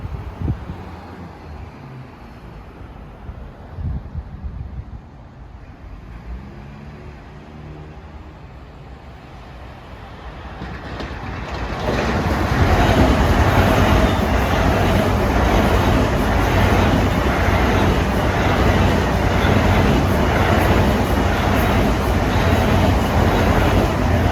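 A Long Island Rail Road train crosses Nassau Boulevard on triple track, starting as a quiet distant rumble that swells into a loud, steady roar with rhythmic wheel clatter as it passes close by.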